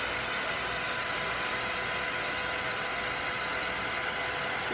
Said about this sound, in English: Now you're going to hit it with your heat source.